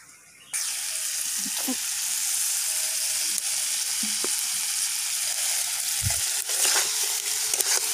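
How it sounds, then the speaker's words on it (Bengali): Chicken pieces dropped into hot oil burst into a loud, steady sizzle that starts abruptly and carries on close by, with occasional scraping and stirring knocks over it. "তেল ছেড়ে দিয়েছে এবার মাংসটা দিয়ে দেবো"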